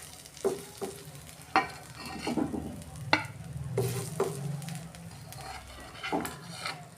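Stuffed flat beans (sim) sizzle softly in a pan while a utensil stirs and scrapes against the metal, with several sharp clinks and taps spaced irregularly over the low frying hiss.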